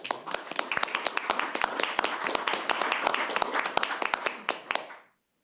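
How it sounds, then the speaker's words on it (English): Applause at a City of Oldsmar council meeting in 2021: a room full of people clapping steadily and fairly loudly for about five seconds, with a few sharp individual claps standing out before it stops abruptly. "ask that we give them a round of applause"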